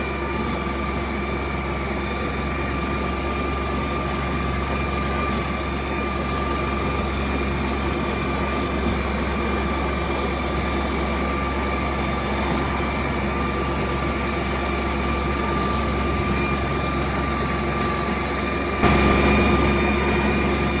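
A Mitsubishi GF 150 mini tractor's engine drones steadily throughout as the machine drives, a constant close mechanical hum with a slight bump near the end and no talking.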